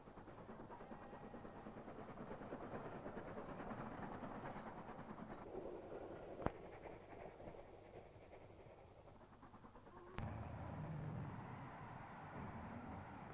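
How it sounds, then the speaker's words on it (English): Number 5 steam locomotive of the North York Moors Railway runs a stopping train through Goathland, a continuous rolling rumble with rhythmic clatter, two sharp knocks, and a louder surge toward the end. "Number 5 locomotive of the North York Moors Railway is on its scheduled run through Goathland to"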